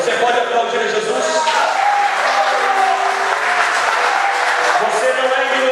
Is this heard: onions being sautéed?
no